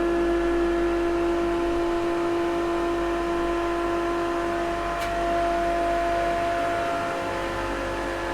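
Twin Caterpillar 3508B diesel engines run steadily in the engine room of a 2005 Benetti 145 Vision superyacht, a loud constant drone with strong low hum and tonal whine, unbroken throughout with no voices.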